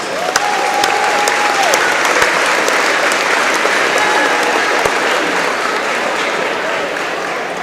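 Crowd at a high school game applauding the officials, steady loud clapping filling the whole stretch with a faint whistle-like tone near the start.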